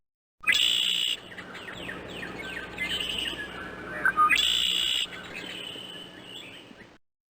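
Bird chirping in the 1993 PC DOS game The Tale of Peter Rabbit, with two bright repeated bursts of rapid twittering calls over a steady synthesized background tone.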